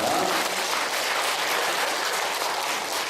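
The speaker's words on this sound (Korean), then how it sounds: "우리 하나님께 영광의 박수 부르시기 바랍니다" A church congregation claps together in praise at a national revival meeting, a dense, steady wash of applause filling the hall at close range throughout.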